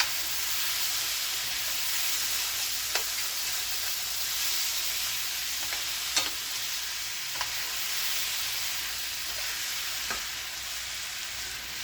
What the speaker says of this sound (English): You hear all that moisture sizzling.